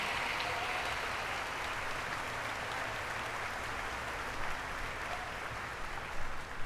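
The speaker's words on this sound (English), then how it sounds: "will you please join me in one more round of applause" Steady applause from a large crowd at a university first-year orientation fills the space, a dense continuous clatter of clapping hands that holds evenly throughout.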